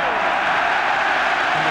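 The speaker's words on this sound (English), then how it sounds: "And the crowd enjoyed a touch there from their captain." Crowd at a 1982 Denmark v England European Championship qualifier football match, a steady broad roar of cheering and applause filling the stadium throughout, with a commentator's voice faintly underneath.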